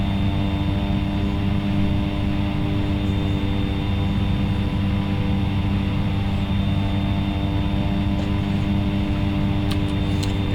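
A Cessna Caravan turboprop in the X-Plane 11 flight simulator drones as a steady, loud engine hum with propeller buzz, unbroken and alone.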